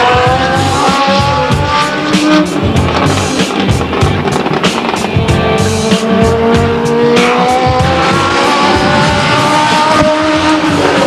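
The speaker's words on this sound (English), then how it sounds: "In the number 98 car from Fremont, that's Mike Hoffman." Legends race cars at Stockton 99 Speedway in 2003 roar around the oval in a loud, sustained pack, their engines droning and rising and falling as cars pass close by.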